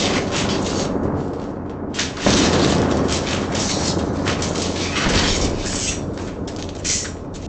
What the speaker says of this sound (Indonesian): Gunung itu tidak mati. Ia meledak.